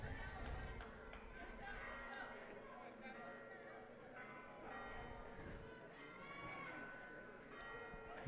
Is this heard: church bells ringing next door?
yes